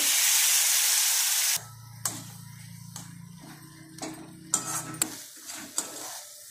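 Water poured onto spiced masala frying for potato curry makes a loud hiss that cuts off abruptly, followed by quieter bubbling simmer with intermittent sharp clicks and taps of a utensil against the pan.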